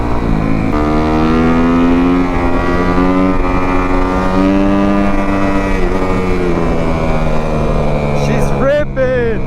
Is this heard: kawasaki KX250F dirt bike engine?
yes